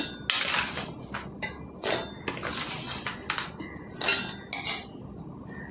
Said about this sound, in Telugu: ఇప్పుడైతే మిక్సీ జార్లోకి వేసేసుకుందాం